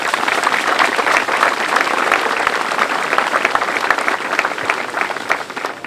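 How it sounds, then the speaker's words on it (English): Clapping from the audience at an outdoor ribbon cutting ceremony for a sports field in Bloomfield, New Jersey, with steady, close, fairly loud applause throughout and no speech over it. "let's give a round of applause to the class of"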